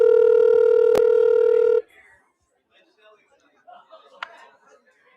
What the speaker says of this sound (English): we're getting ready to dial up our next guest here